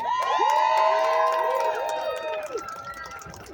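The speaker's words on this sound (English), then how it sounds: "give a big round of applause for the PU marching band" A crowd at an outdoor rally in Brooklyn cheers and whoops together for a marching band in a loud, sustained roar that gradually fades.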